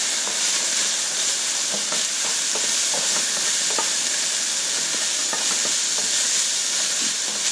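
Taco meat with seasoning being stirred in a hot pan: steady loud sizzling and hiss throughout, with a series of soft scraping and clicking stirring strokes over it and no speech.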